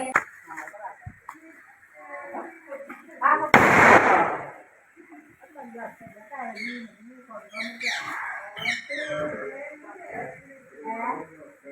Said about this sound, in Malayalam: ഞാനൊരു പടക്കം പൊട്ടിച്ചു നോക്കുകയാണ്